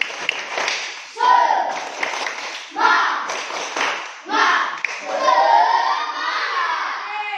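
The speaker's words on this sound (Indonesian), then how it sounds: "Ayo, tepuk semangat." A classroom of students does a rhythmic clapping cheer, bursts of fast claps and shouted chanting repeated in several waves, loud and close with voices mixed in.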